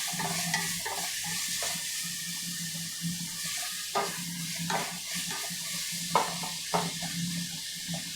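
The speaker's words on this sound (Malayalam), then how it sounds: "ചിക്കൻ ചേർത്തിട്ട് നന്നായിട്ട് ഈ ഒരു പേസ്റ്റിലേക്ക് മിക്സ് ചെയ്ത് കൊടുക്കണം." Marinated chicken being stirred into a masala paste in a pan, a constant low sizzle broken by repeated scraping and knocking of the spoon at an uneven rhythm.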